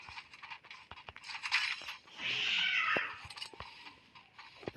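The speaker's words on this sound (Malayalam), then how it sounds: "പൂച്ച" A cat meows nearby in a quiet room, giving one drawn-out, fairly loud cry amid faint scattered clicks and rustles.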